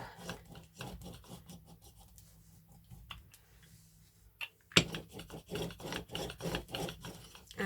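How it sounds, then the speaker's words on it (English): A brayer is rolled over card stock laid on an embossing folder, giving soft, rhythmic rubbing and scraping strokes up close, quieter in the middle and then firmer and louder after a sharp knock. "I'm just using my brayer and going over the top"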